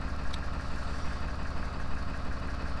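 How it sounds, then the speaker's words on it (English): Narrowboat engine idling on a canal, a steady low rumbling chug running continuously and close, with no voices. "let's turn the engine off"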